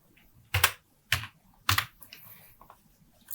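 Someone types on a computer keyboard nearby, with three sharp clusters of keystrokes followed by lighter scattered taps, all in a quiet setting.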